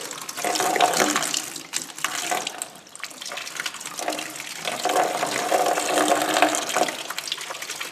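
Coolant cleaner and distilled water gush and splash steadily out of a car's heater core into a container, a continuous loud rushing flow with no talking.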